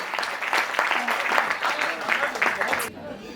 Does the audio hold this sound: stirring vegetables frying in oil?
no